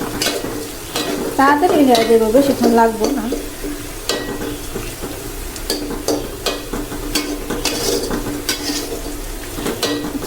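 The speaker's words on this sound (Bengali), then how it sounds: "আর এখানে পেঁয়াজটা ভাজা নিতেছি।" Onions fry in a pan on a stove, a continuous sizzle with scraping stirs and light utensil clinks, while someone talks briefly over the cooking.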